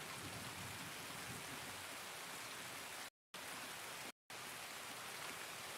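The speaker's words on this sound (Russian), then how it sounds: "Дождик на улицу пошел." Rain falls steadily outside as an even, soft hiss with no breaks apart from two brief total dropouts, no voices.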